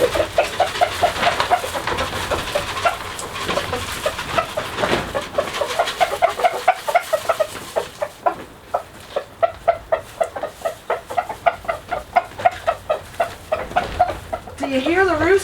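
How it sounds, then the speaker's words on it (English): Chickens cluck close by in quick repeated calls while roosters give insistent food calls over cracked corn and mealworms mixed into straw in a backyard run; a person talks briefly at the end. "Can you hear the roosters giving them the call that there's food here?"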